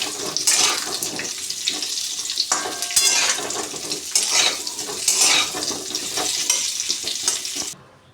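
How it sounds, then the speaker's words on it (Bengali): Potatoes fry in a pan of hot oil with a loud, steady, close sizzle that crackles and surges throughout, then cuts off abruptly near the end. "তাতেই আমি আরেকটু তেল দিয়ে আলুগুলোকে লাল লাল করে একটু ভেজে নেব।"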